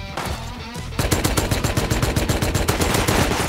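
Rapid automatic gunfire in the survival game Rust, a loud sustained burst of evenly spaced shots after a quieter second of game ambience, with no talking over it.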